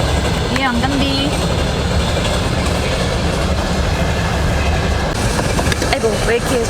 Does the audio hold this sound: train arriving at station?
yes